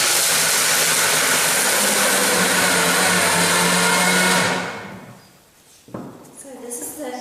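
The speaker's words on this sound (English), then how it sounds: "And this is a high-speed blender." A high-speed blender grinding almonds into meal whirs loudly and steadily for several seconds, then winds down to a stop before a voice speaks.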